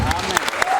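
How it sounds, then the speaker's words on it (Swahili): A church congregation claps during a worship service. A brief patter of claps sounds under a voice speaking over it. "Makofi kwa Yesu tafadhali."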